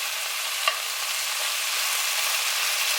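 Beef pieces browning in a frying pan for a Flemish beer stew, with flour bits on the bottom; a steady, even sizzle and frying hiss runs throughout, with one brief scrape of stirring early on.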